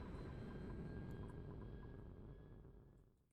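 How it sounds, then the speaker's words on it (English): A cargo rocket engine in Oxygen Not Included fires up as a steady, loud roaring rumble that holds strong, then gradually tapers off as the launch recedes. "Engine kicks in."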